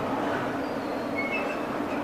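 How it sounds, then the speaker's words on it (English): A freight train runs on the main line into King's Cross, heard from a fire escape at the back of the Camden Roundhouse as a steady, moderately distant rumble with faint wheel squeals and no talking. "There's a freight train just going out."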